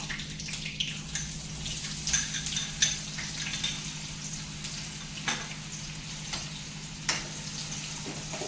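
Finely chopped onion sizzling and frying in a pan while being cooked for Nashik misal, a steady close crackle with a few stirring and utensil knocks.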